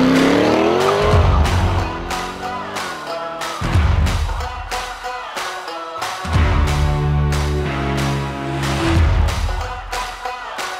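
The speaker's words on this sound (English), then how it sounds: "Fantastic to hear a new car with such a great sounding V8 as well" A Corvette C8 Stingray V8 driven hard, the engine loudly revving up and down in repeated surges with rising tones, gear changes and squealing tires, close and alone without talk.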